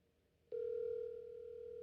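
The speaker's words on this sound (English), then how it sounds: "It's ringing." A single steady telephone tone is heard over a speakerphone. It begins abruptly after a short quiet stretch and holds at an even, moderate level to the end.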